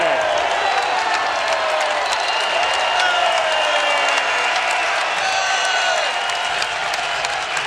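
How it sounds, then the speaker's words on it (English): Oregon State home crowd at a 2017 college basketball game against Arizona, applauding and cheering in a sustained roar of clapping and whoops that fills the arena, loud and steady, with a commentator talking over it. "And the crowd responding to the effort from Oregon State on their home floor."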